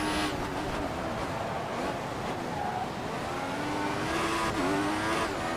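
An F1 race car in the video game F1 2014 on the Brazilian Grand Prix circuit, its engine whining steadily and close, with pitch shifts and a brief squeal as the rear steps out in oversteer and the wheels spin.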